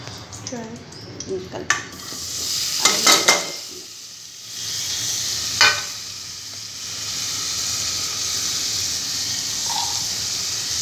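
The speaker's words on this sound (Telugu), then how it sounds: "ఇది ఆయిల్లో ఫ్రై చేసి బాగుంది" Paneer fries in oil seasoned with turmeric, salt and chilli powder, giving a close, steady sizzle, with utensil clinks and stirring scrapes in the first few seconds before the frying settles into an even hiss.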